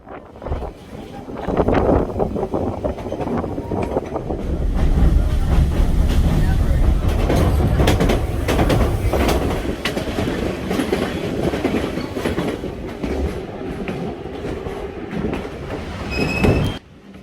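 A White Pass and Yukon Route train in Alaska rumbles along the tracks with rhythmic clatter and occasional metallic squeals, heard from on board, with faint voices in the background.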